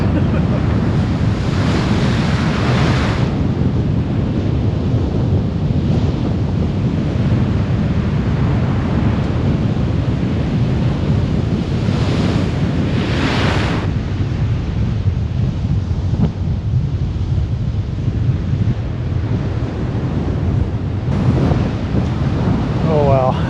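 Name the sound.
ocean waves and wind on the NSW Central Coast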